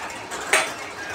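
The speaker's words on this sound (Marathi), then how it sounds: "तर हे बघा मी असं मिक्स करते" Food being mixed in a bowl by hand for a butter-based home recipe, heard as a single sharp clink of a utensil against the bowl amid quiet room tone, with no talking.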